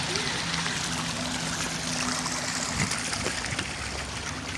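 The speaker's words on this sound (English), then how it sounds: "Literally, our street is flooded now." Floodwater runs steadily along a flooded residential street during heavy autumn rain, a continuous broadband rushing and trickling wash with no spoken words, holding an even level throughout.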